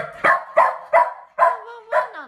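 A Shetland sheepdog barks five times in an evenly spaced series of sharp, close, high-pitched yaps, the last trailing into a short whine.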